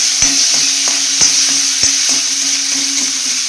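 Mixed vegetables with coriander are sautéed in a pan for a Bhogi mixed-vegetable dish, giving a loud, steady sizzle broken by regular, close knocks of a spatula stirring.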